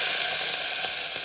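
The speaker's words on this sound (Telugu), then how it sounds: "పోపు చాలా బాగా గోలింది. చూడండి ఎలా సౌండ్ వస్తుందో." Hot tempering oil sizzles loudly as it is poured into a brinjal yogurt chutney, a dense, steady crackling hiss heard close up and alone.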